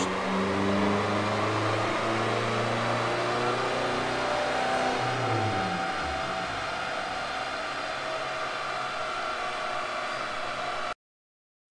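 Mazda BT-50 3.0 CRDI diesel pickup running on a chassis dyno, its engine droning loud and steady, then climbing in a strong rev before easing down, with no talking over it.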